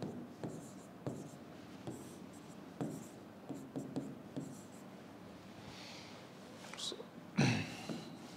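Chalk scratches out a chemical reaction on a classroom blackboard in a Class 10 science lesson, with short close strokes and taps coming in bursts and pauses, ending in a louder scraping stroke.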